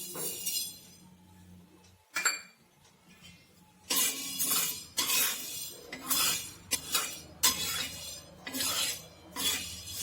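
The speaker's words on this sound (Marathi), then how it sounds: "मी गहू भाजून घेणार आहे." Wheat grains dry-roasted in a pan, stirred in bursts so the hard kernels rattle and clink against the metal, quiet pauses alternating with loud scraping, rattling passes.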